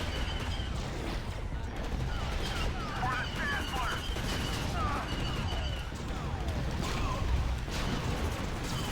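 Turret gunfire in Star Wars Battlefront 2 during a beach battle against droids, a dense continuous barrage of blaster fire and explosions with laser zips, loud and constant over a rumbling battlefield, with a voice talking over it.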